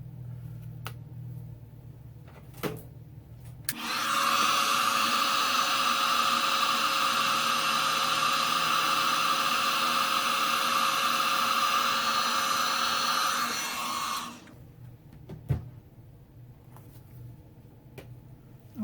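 A heat tool blows hot air in a steady, loud whoosh for about ten seconds to melt embossing powder on a stamped card, then cuts off, with faint handling noises before and after.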